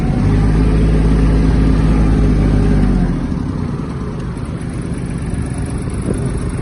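Small diesel engine of a Kubota KL-2450 mini tractor runs loud and steady close by, with the low rumble dropping slightly after a few seconds as the gearbox is shifted.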